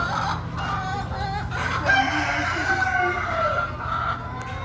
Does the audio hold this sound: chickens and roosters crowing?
yes